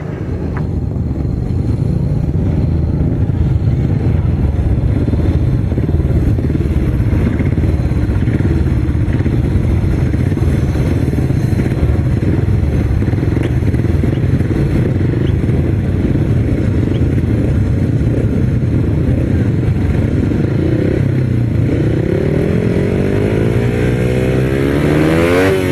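Grasstrack motorcycles roar loudly and continuously while racing, a dense sustained engine drone with rising revs toward the end and no voices over it.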